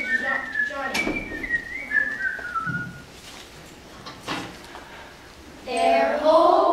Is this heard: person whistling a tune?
yes